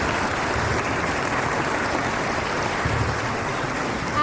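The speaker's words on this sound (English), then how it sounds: "could we have an extra round of applause for Susan?" Audience applause for pianist Susan at a 2019 Christmas concert: a dense, steady wash of clapping from many hands that holds without a break for the whole stretch.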